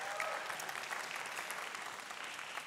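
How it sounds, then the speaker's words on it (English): A church congregation claps together at a Christmas Eve service, a steady wash of many hands that holds even and fairly faint for the whole stretch, with no voices rising above it. "we should clap for that."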